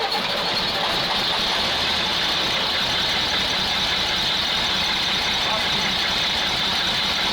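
A Praga V3S 6x6 truck engine, long stuck in the ground, runs loud and rough at high throttle, with a steady broadband roar and no voices in the foreground.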